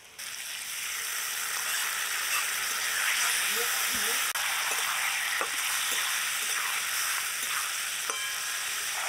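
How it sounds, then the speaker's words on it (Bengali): Mixed vegetables sizzle in a hot pan with ginger and green chili paste, a steady loud frying hiss broken by scraping, clattering stirs of a spatula. "আদা কাঁচা লঙ্কা নেড়ে চেড়ে মিশিয়ে দিয়েছি।"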